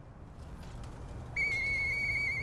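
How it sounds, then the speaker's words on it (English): A steady, clear whistle from the video game Lies of P sounds abruptly partway through and holds, bright and close, with faint ambient game hum before it. "I know that whistle. It must be Murphy."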